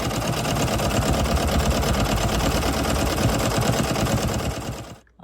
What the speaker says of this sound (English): I'm gonna head over to the embroidery machine, and we are going to stitch it out.